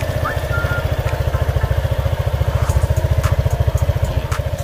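A Honda PCX scooter engine running on diesel engine oil idles close by, a fast, even putter with a steady rhythmic pulse and faint rattling on top, no talking.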